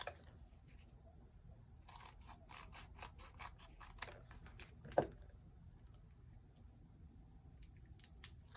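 Scissors snip through the paper ends of a paper pumpkin craft: a few soft, crisp cuts in a quiet room, with one sharper snip near the middle.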